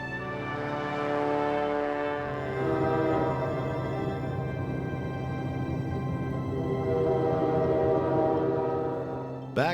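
Alaska Railroad passenger train travelling north toward Hurricane Gulch, its horn sounding in long sustained blasts over a steady rumble of wheels, fairly loud and continuous throughout, with no talk.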